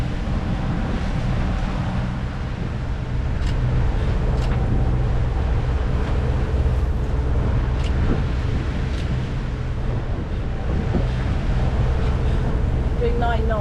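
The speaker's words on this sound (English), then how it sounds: "Sailing a bit." A sailing boat makes way through open water under wind, somewhere on the passage from Dover to Ramsgate, with a steady, loud broadband rush of hull wash and wind buffeting the microphone throughout.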